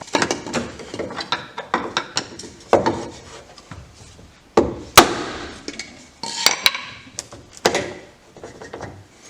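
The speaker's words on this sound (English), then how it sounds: "you're just gonna put it on here, whack it with the hammer until it goes on there." Sharp hammer whacks drive a replacement hinge onto a Thule roof box lid lifter, coming as a rapid series of loud, close metallic and plastic knocks with brief rubbing and scraping between blows.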